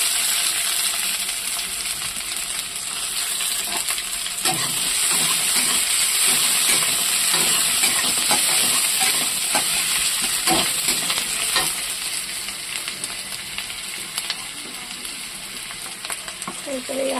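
Onions sizzle and fry in hot oil in a kadai, a steady bright hiss with occasional stirring clinks, close and continuous with no talk.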